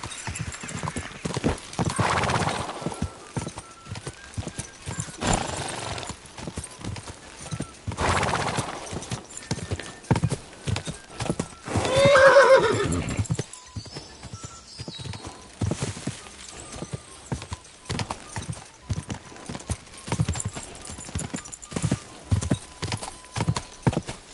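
In the video game Kingdom Come: Deliverance II, a horse's hooves clip-clop at a steady gallop while it neighs loudly a couple of times, with rustling movement throughout.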